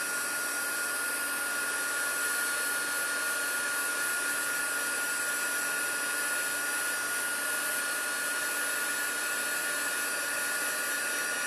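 A heat embossing gun melts embossing powder on paper while making a Stampin' Up card, giving a continuous, even blowing whir with a fan hiss that holds steady and fairly loud for the whole stretch.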